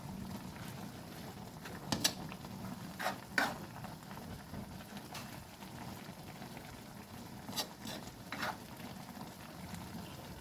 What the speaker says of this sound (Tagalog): Kulong-kulo ang ating laing ngayon.